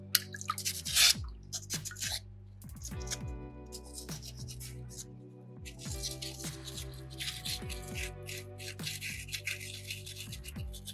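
Soapstone carving rinsed with water during sanding, with close splashing and dripping, intermittent rubbing and scattered small knocks over a faint hum, no talking.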